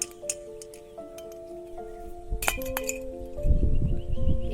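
Empty glass soda bottles clink a few times, sharp and close, followed by rustling and shuffling noises.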